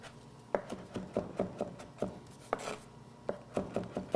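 Knife blade mincing wild rice meatball ingredients on a cutting board, with a hand resting lightly on top of the blade: a run of crisp, uneven chops, close and fairly quiet, with short pauses between the strokes.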